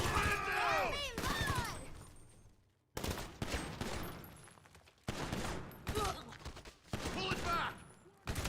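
Video game gunfire rattling off in dense automatic bursts, loud and close, broken by short pauses, with a player talking over the shooting.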